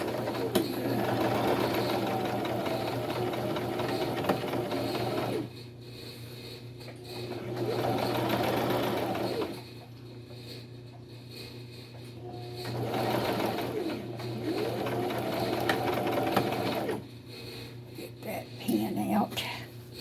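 Sewing machine stitching fabric in bursts of rapid mechanical chatter, several runs of a few seconds each separated by pauses, close and clear over a low steady hum, with some quiet voice in between.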